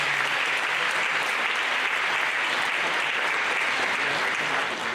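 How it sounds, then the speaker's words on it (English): An audience claps in a dense, steady wash of applause that holds at even loudness for the whole stretch, with no voices on top. "So a round of applause."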